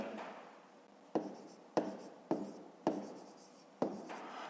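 Pen or pencil writing by hand on paper while working a fifth-grade math exercise, heard as five quick scratchy strokes at a steady pace, close and fairly quiet with no voices.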